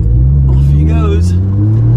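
A supercar accelerates hard on turbo boost, its engine drone close and loud as it climbs steadily in pitch, with a voice heard faintly over it.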